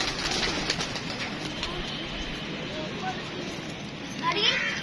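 Pigeons coo in a loft amid constant rushing noise. Their soft calls sit under a voice, which talks over most of the clip, and a brighter burst of calls comes near the end.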